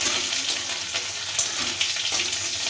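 Garlic and grated ginger fry in a pan while being stirred, a close, steady sizzle with light scraping and stirring accents throughout.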